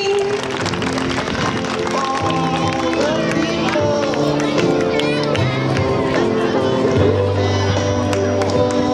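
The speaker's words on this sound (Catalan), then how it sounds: "Vinga, un aplaudiment per aquests nens i nenes tan eixerits." A crowd claps and cheers for young children at a school poetry festival amid lively hubbub, with voices talking over the continuous applause.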